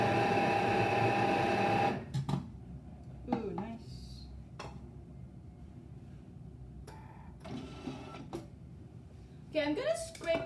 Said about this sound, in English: We will blend it all up. Process it.